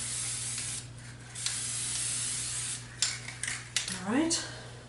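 Spray paint from a can lightly dusting a piece of cardboard, a steady soft hiss lasting a few seconds, followed by brief handling clatter and short bursts near the end.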